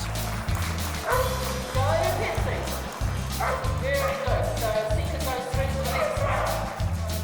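Dogs bark and yip at an agility competition where Border Collies dominate, the barking repeated in quick bursts close by, under continuous commentary and a steady pulsing background.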